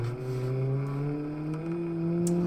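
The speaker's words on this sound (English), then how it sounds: "Oh, over revving the living daylights out of it" A car engine in a BeamNG.Drive demolition derby at Wrong Turn Raceway over-revs hard, its steady, loud, buzzing tone slowly climbing in pitch with no break.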